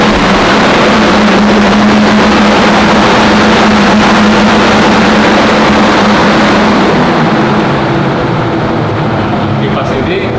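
On a Mitsubishi Delica, the radiator and intercooler cooling fan runs with a loud, steady, broadband whirring roar that fills the whole stretch without pause.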